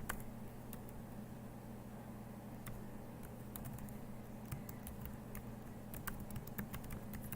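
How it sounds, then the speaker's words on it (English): A computer keyboard is typed on in irregular bursts of soft clicks over a constant low electrical hum, fairly faint and with no talking. "Hopefully I'm typing them right."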